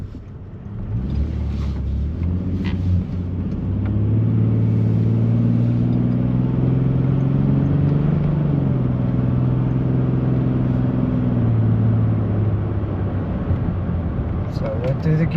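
A 2014 Nissan Frontier pickup with an automatic transmission drives steadily, its engine note droning and shifting pitch as it accelerates and rounds a corner, the cabin hum continuous throughout.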